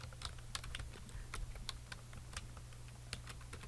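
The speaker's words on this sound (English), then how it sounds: "So I'm going to type in Samantha Craft." Quick typing on a computer keyboard, a steady patter of light key clicks over a low background hum, close but fairly soft.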